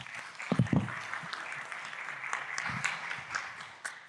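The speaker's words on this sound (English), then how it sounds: "So please welcome with a big applause, Brian." Audience at a tech conference applauding to welcome a speaker: faint, diffuse clapping from a crowd in a hall, with a few louder claps near the start, sustained for several seconds.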